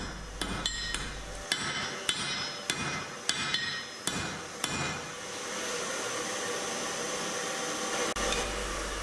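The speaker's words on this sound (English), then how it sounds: "with half on half off blows I'm flattening the jaw" A blacksmith's hammer strikes a steel tong jaw on an anvil, flattening it with half-on, half-off blows, about nine sharp ringing hits in an uneven rhythm, loud and near, followed by a steady whooshing background hum.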